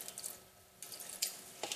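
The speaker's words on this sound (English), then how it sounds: "I'm going to add some more water." Water runs from a kitchen tap in a steady quiet stream into strawberry pancake batter, the flow sputtering and changing a few times, with no talking.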